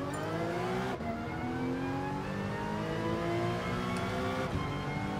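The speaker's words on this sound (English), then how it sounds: "gotta admit, this sounds good for a Porsche." Porsche race car engine in Gran Turismo Sport, balance-of-performance tuned, revving steadily with rising harmonic tones and high transmission whine, loud and continuous with brief gear-shift dips, no talk.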